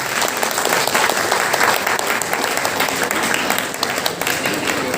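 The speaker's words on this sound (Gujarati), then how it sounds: "તાળીઓ." An audience at a Brahmin community honour ceremony in Navi Mumbai applauds steadily, with dense, sustained clapping from many hands and a few voices faintly underneath.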